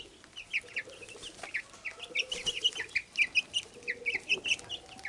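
Chickens cluck and chirp in a garden, several birds making busy, overlapping calls that grow denser and louder toward the end.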